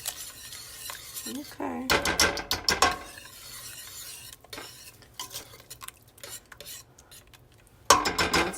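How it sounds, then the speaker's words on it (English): A liquid chocolate cake mixture whisked in a bowl, with bursts of rapid scraping and clinking against the sides between quieter pauses, and a brief spoken word near the start. "I'm going to whisk it until it's formed like a liquid."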